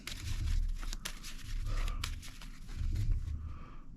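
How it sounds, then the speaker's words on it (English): Deck of trading cards for a bug-themed digital card game being shuffled up close: quiet, rapid riffles and papery slaps in three short bursts, alone without talk. "So we're gonna give it some shuffles here just to try to get those spiders all separated."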